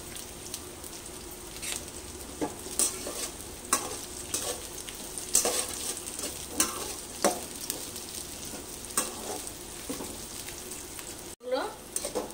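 Cashews, raisins and spices fry together in a pan, giving a soft continuous sizzle broken by scattered pops and spoon stirs, fairly quiet and close, with a brief scrape near the end.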